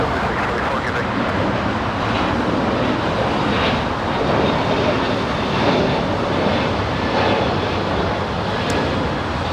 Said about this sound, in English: Now we have JetBlue 624 flying to JFK, an A321 Neo.